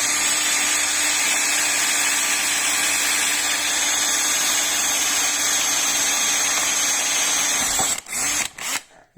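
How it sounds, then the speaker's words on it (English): A power drill bores steadily into hard ironwood, a loud continuous whine with a constant pitch that holds for about eight seconds before cutting off abruptly with a few brief stops at the end. "Drilling ironwood."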